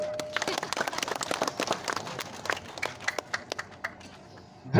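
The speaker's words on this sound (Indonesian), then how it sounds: "Tepuk tangan." Scattered audience clapping at a political rally for regional head candidates, a sparse, uneven patter of hand claps at moderate distance that thins out toward the end, with talk underneath.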